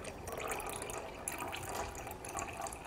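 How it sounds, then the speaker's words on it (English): Paint-tinted water is poured into a glass mason jar, a steady close splashing and trickling stream running continuously for a few seconds without talk. "now we're going to pour it into our mason jar"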